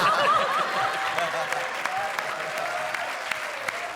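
Loud, sustained studio audience applause for a comedy stage show, a dense wash of clapping with a few whoops and faint chuckles mixed in, steady throughout.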